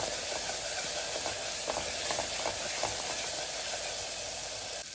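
Masala for kadalai curry sautéing in a pan, giving a continuous, even sizzling hiss with faint, soft stirring scrapes running through it.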